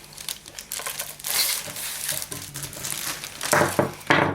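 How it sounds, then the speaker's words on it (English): Plastic shrink wrap crinkles and tears as it is peeled off a boxed Anne Stokes spirit board, close-up rustling and crackling bursts of varying intensity. "we will peel that off"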